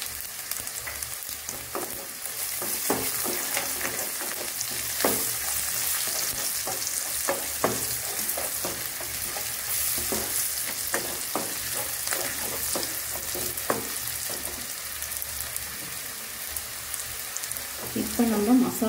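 Small shallots with garlic, curry leaves and turmeric fry in hot oil for brinjal tamarind gravy, a continuous close sizzle broken by repeated scraping stir strokes, with faint background noise.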